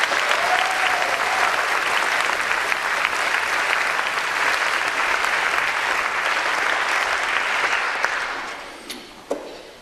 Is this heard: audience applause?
yes